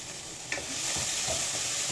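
Onions fry with mutton in a hot pan, giving a steady close sizzle throughout, broken by a few scraping stirs of a spoon against the pan.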